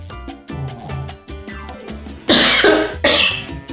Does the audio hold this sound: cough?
yes